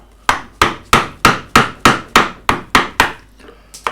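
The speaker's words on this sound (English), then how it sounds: "if you do light taps with a mallet, you can nudge it against the grain quite well" A mallet taps a 45-degree skew chisel undercutting the cuffs of a carved wooden shirt, about ten crisp, evenly spaced knocks, close and loud, with a softer pair of taps closing it out.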